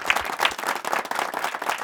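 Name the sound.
studio audience applause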